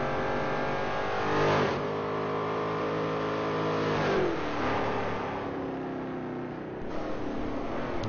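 A Pontiac Firebird race car in a historic Trans Am sim race at Sears Point revs and accelerates, engine pitch rising and falling through gear changes with a couple of louder passes, heard fairly faint and steady with no talk.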